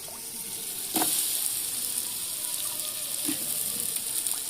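Washed potatoes and cut eggplant sizzle in a large pot of communal cooking, a soft, constant frying hiss with a couple of light clanks of utensils.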